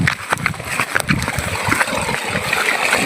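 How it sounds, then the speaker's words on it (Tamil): Fresh stream water flows and splashes steadily outdoors, a continuous broadband rush with small gurgles and splatters, close and fairly loud. "இதோ கைஸ், தண்ணி வருது பாருங்க கைஸ்"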